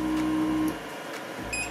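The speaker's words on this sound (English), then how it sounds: "So let me home this printer because I already leveled it." A BestGee T220S 3D printer homes its axes with a steady mechanical stepper whine that cuts off partway, then a few short, faint electronic beeps near the end, with no talking.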